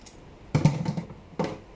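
A knife cuts the tail off a yellowtail (kuning) fish being cleaned, giving two close, muffled chopping thuds followed by a third cut a moment later, near and fairly clear with no talk.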